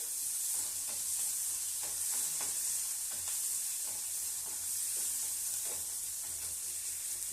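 Masala with fennel seeds, rock salt and a single green chili fries in a pan: a steady, close sizzling hiss broken by light, irregular scrapes of stirring, with no voices.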